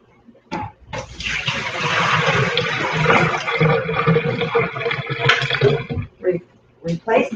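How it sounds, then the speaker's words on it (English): Water pours and splashes for several seconds as a removable Keurig coffee machine reservoir is emptied and rinsed, a steady close rushing stream with brief drips and clunks at the start and end. "Empty the remaining water and rinse."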